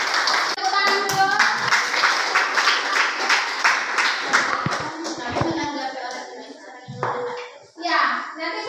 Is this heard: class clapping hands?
yes